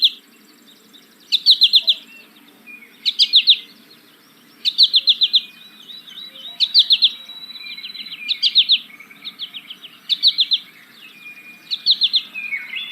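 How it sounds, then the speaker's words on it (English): Short bursts of bright, twittering calls come from an American goldfinch in flight, about eight quick clusters spaced evenly and heard close and clear against a quiet background. "So that was the American goldfinch flight call"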